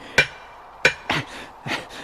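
A hammer strikes a nail into a hard stone slab, giving four sharp, ringing metallic blows spaced unevenly, each with a short bright decay, loud and close with no talk.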